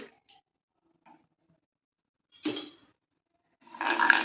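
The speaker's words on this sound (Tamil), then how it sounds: "கடுகு நல்லா பொரியட்டும். கடுகு நல்லா பொரிஞ்சிருச்சு." Mustard seeds popping and spluttering in hot sesame oil in a heavy iron kadai: a brief crackle, then a steady sizzling burst that swells toward the end, close and clear with no talk.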